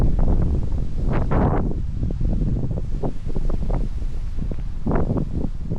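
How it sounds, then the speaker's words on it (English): Strong wind buffets the microphone in loud, rumbling gusts on a hike in the Middlesex Fells Reservation, with a few sharper bursts of roaring noise and no voices. "Super windy."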